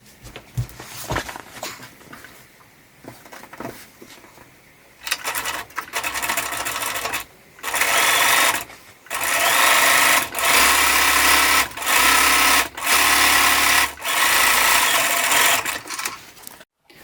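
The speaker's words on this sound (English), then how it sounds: "you're going to sew along this short edge with a 3/8 inch seam allowance, and you're going to sew with a straight stitch" Sewing machine stitching a straight seam along a fabric edge, a few short hesitant bursts followed by several longer steady whirring runs separated by brief pauses.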